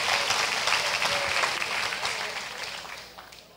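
A church congregation applauds during worship, dense steady clapping that fills the space and slowly fades toward the end, with no talking over it.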